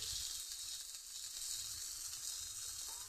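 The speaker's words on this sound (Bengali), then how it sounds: "এখন মশলাটা আমি কষিয়ে নেব" Ground coriander, turmeric, chili and cumin powders fry in hot oil in a pan, a steady, soft sizzling hiss heard close up with no talk.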